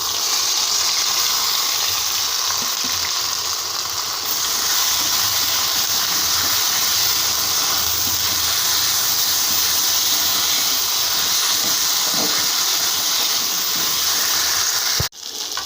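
Chopped onion and spice mix hitting hot oil over reddish-fried potatoes, a steady loud hiss and sizzle running without pause, ending in a brief knock near the close; no talk.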